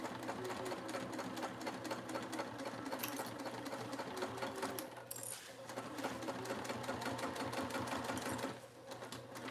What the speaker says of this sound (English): I'm just going to sew those two ends over each other.